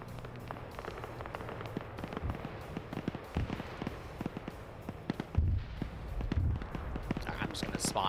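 Mortar fire in a drone-warfare military video game, a steady scatter of faint popping explosions and crackles, with louder thumps toward the end, under ongoing talk.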